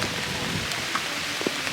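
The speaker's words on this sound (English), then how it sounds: "Poor Dee Dee, we've got absolutely pouring rain now, which is no fun at all" Heavy rain pours steadily on an outdoor eventing course, a dense continuous hiss with a few louder drips and no voices.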